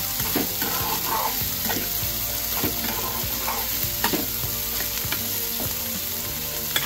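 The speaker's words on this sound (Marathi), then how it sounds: "मंद गॅसवर आता हे मिरच्या थोड्या भाजून घ्यायच्या छान" Green chillies roasting in a pan over low gas give a steady, close sizzle and crackle with occasional sharper pops, with no talking.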